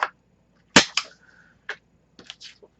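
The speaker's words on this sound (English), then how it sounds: "I'm going to corner round" A corner rounder punch snaps through the corners of a paper journaling card with several sharp clicks in an irregular rhythm, close to the microphone in a quiet room.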